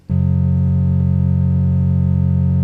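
A sustained synthetic chord resampled from an Elektron Model:Samples drum machine rings steadily with a buzzy, slightly distorted harmonic tone, starting abruptly and holding at full loudness throughout.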